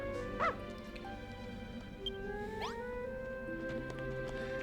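A dog in Dragon Quest Builders 2 gives a short yip and a whimpering whine over steady game music, the brief cries fairly close but soft.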